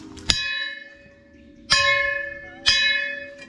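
Three loud bell strikes, each ringing out and slowly fading, spaced a little over a second apart, with a faint hum beneath.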